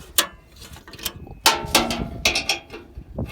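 A Mastercraft wrench clatters against a bolt in close, irregular metallic clicks and ratcheting snaps, with brief pauses between bursts.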